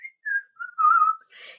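A voice-actor's whistle imitates a station master's call, a short series of clear, close notes sliding downward, then a breathy trailing tone, alone without talk.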